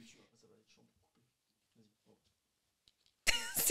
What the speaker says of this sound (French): Il a juste toussé, genre.